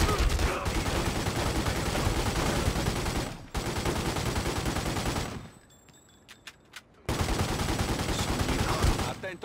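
Dense gunfire from a shootout in The Godfather II, played as an attack on Fidel Castro, rattles on loudly and almost continuously, cutting out for a quieter stretch with a few isolated shots before the barrage resumes.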